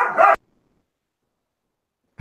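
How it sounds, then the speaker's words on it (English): A dog barks in a short burst of a few loud, close yips, then silence follows, with a brief faint sound returning right at the end. "dog barking. That's funny."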